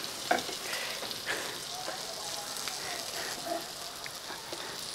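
Sardines frying in a pan, with a steady close sizzle and spatter and a few small pops over the continuous hiss, like a kitchen stove at work. Faint voices may be in the background.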